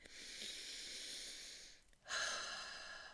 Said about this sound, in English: Put your hand on your chest and take a deep breath in.